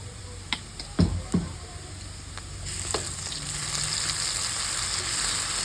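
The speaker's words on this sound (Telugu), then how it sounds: "కొంచెం ఫ్రై చేసుకుందాం మసాలాని" Masala sizzling and frying in a pan with fried onions for fish egg fry, with a few knocks of a spoon early on, then a steady, louder hiss of frying.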